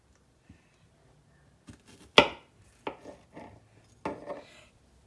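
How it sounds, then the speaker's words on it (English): Knife slicing strawberries in half on a cutting board, a handful of crisp separate thunks spaced irregularly over a quiet background, close and fairly soft, no talking. "now I'm cutting my strawberries in half"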